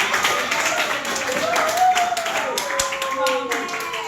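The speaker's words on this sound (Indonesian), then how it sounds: "Tepuk tangan." A school classroom of students clapping their hands together, a busy, steady patter of claps throughout with children's voices calling out over it.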